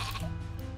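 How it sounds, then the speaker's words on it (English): Sheep on a rope in Worms WMD letting out a short, close bleat over steady background game music. "I'm gonna try this sheep on a rope."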